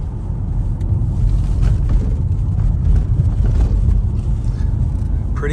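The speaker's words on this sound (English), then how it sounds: "a little bit of road noise, a little bit of going over bumps noise" Steady low road rumble inside the cabin of a 2003 Nissan Murano small SUV driving on city streets and freeway, a continuous hum with faint bumps over the surface, no talk.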